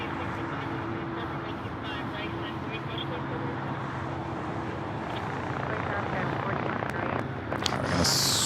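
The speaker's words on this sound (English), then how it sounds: "Swing the camera over to the 777 freighter, now rolling down at 25 left." China Cargo Airlines Boeing 777 freighter rolling for takeoff on runway 25 left at LAX: a broad, steady jet roar holding throughout and swelling slightly toward the end, heard from a distance with faint background noise.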